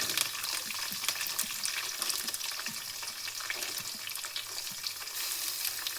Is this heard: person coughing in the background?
no